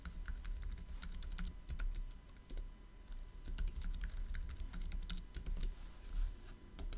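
Computer keyboard keys tapped while an admin password is entered during a server install, a close series of sharp clicks in quick irregular bursts with short pauses between them over a low room hum.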